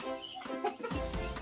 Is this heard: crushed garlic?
no